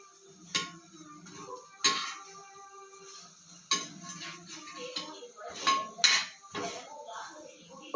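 A metal spatula flips a dosa on a griddle, giving sharp metallic clinks and scrapes at irregular intervals, close and moderately loud, with a voice talking between them.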